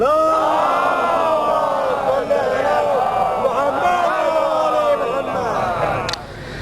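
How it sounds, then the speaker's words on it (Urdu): A large crowd at a religious celebration in Kanodar, Gujarat, chanting a salawat slogan loudly and in unison. The sound is a sustained, swelling wall of voices that stays dense and powerful from start to finish. "ایک اور نعرے صلوات بلند فرمائیں۔"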